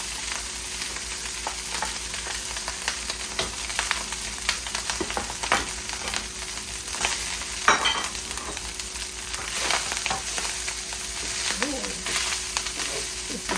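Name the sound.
rice frying in a pan for shrimp fried rice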